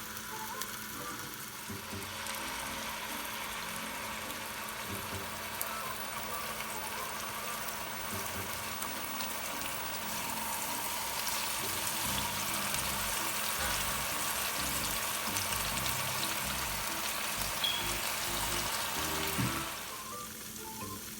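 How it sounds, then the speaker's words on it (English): Thin flounder fillets frying in a pan, a dense, steady, close sizzle and crackle that stays loud and even for the whole stretch, with faint lower bubbling and no talking. "we're gonna cook them all these fillets for 1 minute only on each side, and they'll be cooked"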